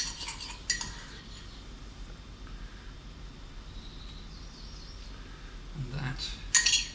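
A metal spoon clinks against a bowl in a few sharp taps at the start and end, with quiet stirring scrapes in between, mixing mustard with boiling water.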